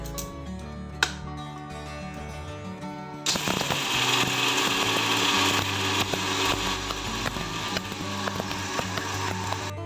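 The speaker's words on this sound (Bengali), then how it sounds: "এগুলো ওই মিক্সিং জারে গুঁড়ো করে নেব" A mixer grinder's jar of chickpeas being ground into sattu powder sits quiet at first with a faint hum and a single knock, then bursts into a loud, steady whirring grind that continues to the end.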